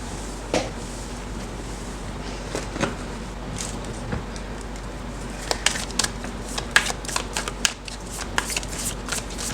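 A deck of tarot cards is shuffled close by, producing soft riffling and repeated crisp flicks and taps over a steady low background hum.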